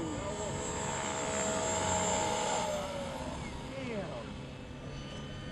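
A radio-controlled flybarless Trex 500 helicopter with full-size servos and 7.4-volt power, its rotor and motor whine rising and falling in pitch as it flies nearby, steady and fairly loud, with people talking over it.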